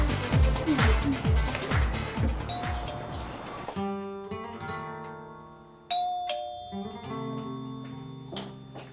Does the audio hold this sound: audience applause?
no